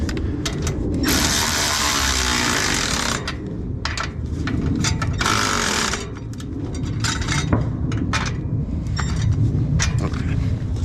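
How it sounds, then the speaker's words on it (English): A ratchet tightens bolts on an Audi A3, with loud, close bursts of rapid clicking and metallic working noise coming in irregular spurts. "Now I'll tighten this shit up."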